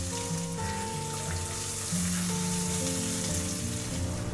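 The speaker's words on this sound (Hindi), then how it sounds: "तुरंत कटा हुआ प्याज डालेंगे और गोल्डन ब्राउन होने तक भूनेंगे।" Chopped onions fry with cinnamon, star anise, cloves, green cardamom and cumin until golden brown for hotel-style paneer do pyaza, giving a steady, close sizzle that holds evenly throughout with no talking.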